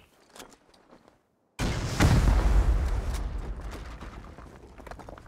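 In the video game Rust, after quiet clicks, a sudden loud explosive blast erupts and rumbles, its boom slowly decaying into a lingering roar.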